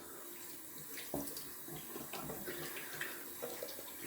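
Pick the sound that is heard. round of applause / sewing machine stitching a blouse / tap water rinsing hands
tap water rinsing hands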